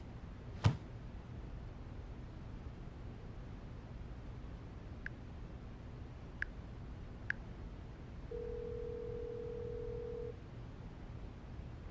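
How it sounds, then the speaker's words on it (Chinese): Quiet room tone with a sharp click, then a few short electronic phone key beeps spaced apart, followed by a steady two-second tone. "我现在就要打电话给坎迪，约他明天晚上出来吃饭。"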